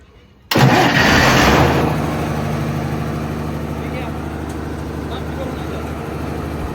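A vehicle engine cranks and catches abruptly after a moment of quiet, roaring up loudly before settling into a steady, rumbling idle close by.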